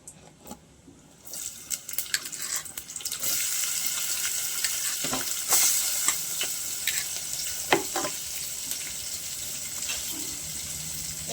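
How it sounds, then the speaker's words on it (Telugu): Two chopped onions fry with turmeric in a pan for a country chicken curry, a loud steady sizzle punctuated by scraping stirs and clinks of the spoon, nearby and without talk. "వేసుకున్నాక ఉల్లిగడ్డలు కలుపుకుందాం బాగా"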